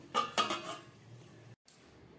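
A metal lid set onto a pot of Amudi fish curry cooked with beans, potato and eggplant: two quick clanks of metal on metal, then a brief scrape and a faint clink after a short gap.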